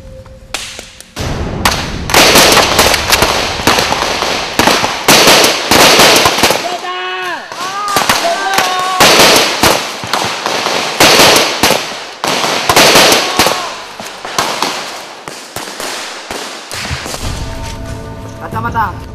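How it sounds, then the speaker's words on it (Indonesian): Smoke grenades thrown and bursting during a police Brimob ambush exercise, a loud rapid series of sharp pops and bangs with crackling bursts, and shouting voices heard between the blasts. "Penyergapan pun langsung dilakukan, ditandai dengan pelemparan granat asap."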